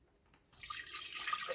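Three cups of water pour into a kitchen container while banana pudding is being made, a brief quiet pause followed by a steady splashing stream.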